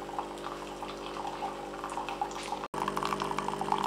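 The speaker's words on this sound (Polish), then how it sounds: "I od razu w sekundzie leje nam się wrzątek." Boiling hot water pours in a thin, continuous stream from a Philips LatteGo 3200 coffee machine, a steady close trickle with a brief dropout partway through.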